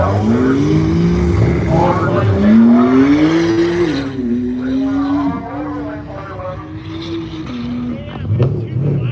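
A Porsche 911 Turbo race car in a hill-climb race, its engine revving and rising in pitch as it pulls away, then fading into the distance under a commentator's excited voice.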